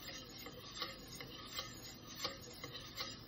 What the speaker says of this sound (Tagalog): Okay guys, ihalo na natin guys.